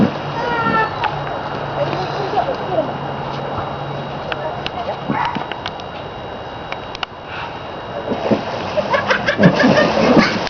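Water splashes and spatters during a backyard squirt gun fight, with scattered sharp sprays and drips under excited children's voices talking and calling out throughout.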